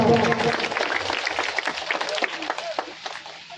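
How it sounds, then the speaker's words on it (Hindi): Audience at an outdoor rally for a Dr. Bhimrao Ambedkar Jayanti celebration in Bandwa, Churu, claps steadily and loudly for several seconds, a dense wash of hand claps with crowd noise and a voice over a PA at the start. "एक बार जोरदार ताली जतन सिंह जी के लिए।"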